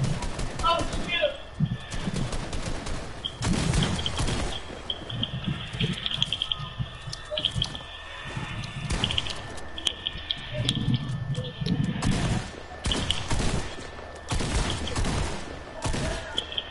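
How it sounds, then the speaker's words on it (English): Rapid video-game gunfire in a match, with repeated loud bursts and volleys running throughout, under steady overlapping talk. "Why are you shooting for no reason?"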